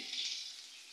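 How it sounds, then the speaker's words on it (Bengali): Food fries red in a pan over a gas stove with a cylinder beside it. It makes a soft, steady sizzling hiss that fades slightly over a brief moment, with no talking. "এখানে এই যে ভাজে লাল হচ্ছে"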